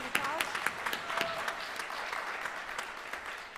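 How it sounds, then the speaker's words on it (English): Applause from the audience at the Drew University Athletics Hall of Fame induction ceremony, a steady wash of clapping with a few sharper claps, moderately loud throughout, with some talk mixed in. "Yes, let's give it a round of applause."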